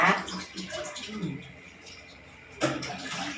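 Water splashing and pouring in bursts as an elderly grandmother is bathed, loud at the start and again near the end, with quieter trickling between and a voice talking softly over it.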